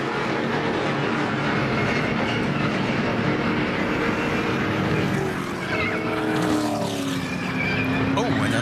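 NASCAR Xfinity race cars in a multi-car wreck, with roaring engines and a broadband crowd and track wash throughout, plus rising engine whines and tire or metal scraping near the end, under commentary.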